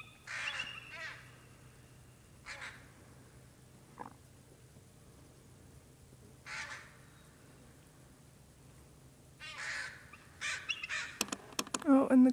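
Crows cawing in harsh, repeated bursts while mobbing an eagle outdoors, the calls spaced out at first and then clustering faster and louder toward the end over a faint low background hum.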